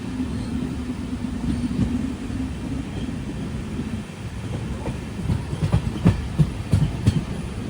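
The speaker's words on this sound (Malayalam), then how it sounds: "ട്രെയിൻ ഇപ്പോൾ കാൺകോൺ എന്നൊരു സ്ഥലത്തേക്ക് എത്തുകയാണ്." The Panchaganga Express rolls toward Canacona with a steady low rumble, and sharper rhythmic clacks from the wheels grow louder toward the end as it nears.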